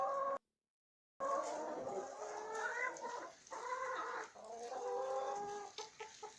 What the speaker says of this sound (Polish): na innej częstotliwości teraz gdaczą, tak się przysłuchajcie